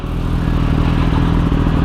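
A Kawasaki ZX10R motorcycle cruises along a highway, its engine a loud, steady droning rumble with wind roar and no break in the sound, heard from the rider's position with no talk.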